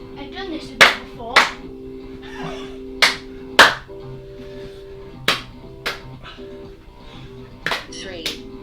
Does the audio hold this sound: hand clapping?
yes